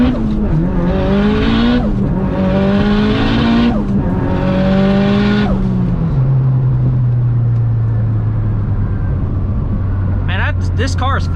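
A 600hp Mitsubishi Evo 9 accelerating hard, its engine climbing loudly through three rising pulls with brief shift dips between them, then settling into a steady high drone as a voice talks over it.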